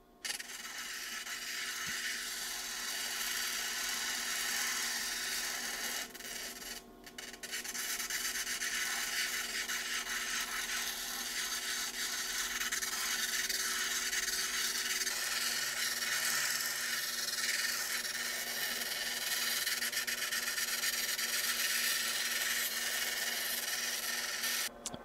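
A cabochon stone held against a grinding wheel during a fine, quiet smoothing stage, giving a steady, continuous rubbing hiss that runs unbroken for the whole stretch, with one brief dip partway through.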